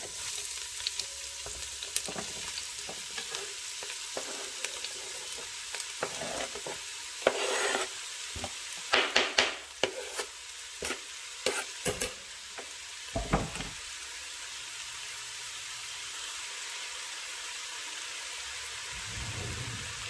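Onions and peppers sizzle in a ceramic Dutch oven, a constant bright hiss broken midway by a cluster of scraping and clicking stirs, then settling back to even frying; no speech.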